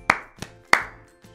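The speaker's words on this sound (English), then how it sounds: "Throw it in the air and clap for once before catching it back." A child's hands clap three times in a simple counting game, sharp separate claps with short gaps between them, the last softer, close by in a quiet room.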